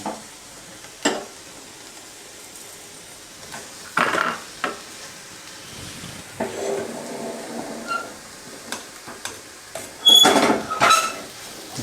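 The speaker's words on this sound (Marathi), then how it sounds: "तर हे साखर वितळेपर्यंत आपण ह्याला हलवत राहायचं आहे" Metal spoon scraping and clinking around a pan as sugar is stirred until it melts for Nagpur-style orange barfi, with soft intermittent scrapes and a few sharper knocks against the pan, no talking.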